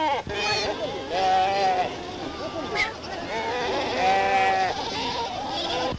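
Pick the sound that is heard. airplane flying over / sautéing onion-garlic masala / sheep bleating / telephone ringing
sheep bleating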